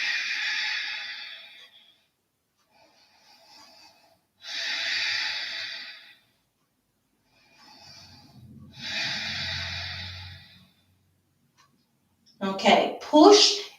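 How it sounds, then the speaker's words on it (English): Deep, slow breaths during a yoga pose, three long exhalations spaced a few seconds apart, close and fairly soft, followed by a brief louder breath or shuffle at the end; no one speaks. "Take 3 breaths."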